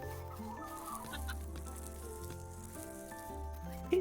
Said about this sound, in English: No wonder the chickens are nervous.